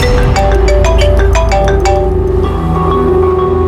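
A loud electronic phone ringtone plays a repeating melodic pattern of bright tones, steady and continuous with no talking.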